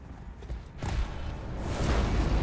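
A horse's hooves clip-clop in Elden Ring Nightreign, a brief burst of clopping steps that swells into a louder, rumbling gallop against the game's background sound.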